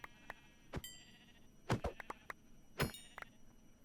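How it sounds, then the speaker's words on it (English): Sheep bleat repeatedly in a video game, several short nasal cries spaced irregularly over a few seconds, mixed with small clicks and dings from the game, fairly close and clear with no talking. "Oh God, sheep."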